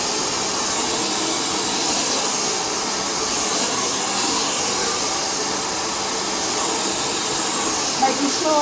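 A hair dryer blowing hot air while a brush lifts hair at the roots, a steady close whooshing roar that holds constant for the whole stretch.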